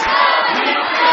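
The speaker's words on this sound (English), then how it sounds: "Listen to this crowd, people." Loud wrestling arena crowd cheering and roaring in a dense, sustained wall of voices, close and continuous for a brief burst.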